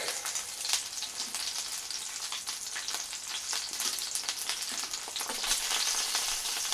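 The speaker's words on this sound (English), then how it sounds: "let's put the splatter guard on and let it fry for a few more minutes" Food frying in a pan beneath a splatter guard, a dense steady crackle and sizzle with sharp pops scattered throughout, close and fairly loud, growing slightly busier toward the end.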